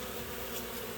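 Carniolan honey bees buzz inside a house tent, a dense, close, continuous hum from many bees with no pauses.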